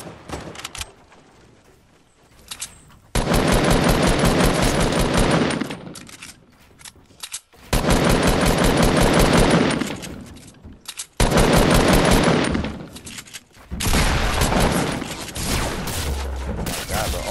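Bursts of automatic gunfire from a Fortnite match, loud and close, coming in several long sustained volleys separated by short pauses, with no one talking over them.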